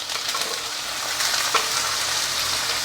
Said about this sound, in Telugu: ఇదిగోండి ఉల్లిపాయ, ఫస్ట్ ఉల్లిపాయ వేసేస్తున్నా